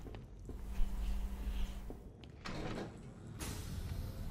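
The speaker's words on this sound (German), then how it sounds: "Wenn ich die Tür schließe, wird das die Explosion eindämmen." Heavy door in the video game Batman Arkham Knight sliding shut, a loud rumbling scrape with a hum and a thump, followed by gusty noisy rushes, no talking.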